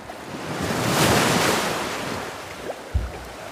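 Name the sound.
lake waves splashing around a kayak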